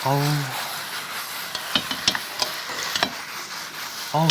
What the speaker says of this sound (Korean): 재빠르게 섞어주면 됩니다